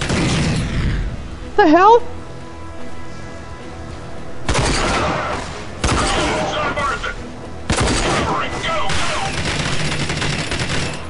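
Bursts of gunfire from a sniper-filled firefight in the video game RAGE, with loud broadband volleys repeating every couple of seconds over game music, and a voice speaking briefly in between.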